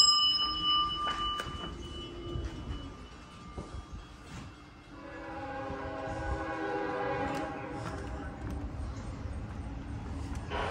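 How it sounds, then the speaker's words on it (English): Northbound Norfolk Southern freight train passing near a tower at Marion, Ohio, a steady low rumble of wheels and cars with a faint horn early and rising metallic squeal tones in the second half, heard at moderate distance. "Comes the northbound Norfolk Southern."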